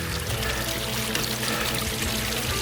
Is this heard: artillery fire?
no